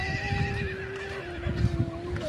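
A horse at an island stop gives a long, wavering whinny, loud and close, over a background of crowd chatter and clopping.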